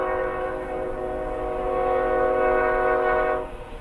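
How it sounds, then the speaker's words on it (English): A train passes close by, a loud sustained horn blast over the heavy rumble of the cars, the sound cutting off near the end. "I'll be happy when the train goes by."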